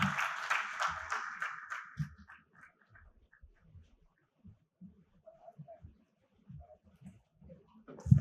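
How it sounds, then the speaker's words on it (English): Applause from a conference audience, a burst of clapping that fades within about two seconds, followed by scattered faint claps and low murmurs before a short loud rise at the end. "I think we should have a louder round of applause for Dr. Swati Piramal and her team"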